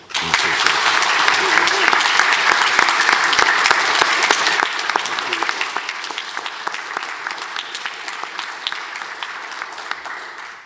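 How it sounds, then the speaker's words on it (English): Applause for teachers at a Grade 8 closing ceremony, a full audience clapping steadily for about ten seconds and fading gently toward the end. "Please join me in giving them a huge round of applause"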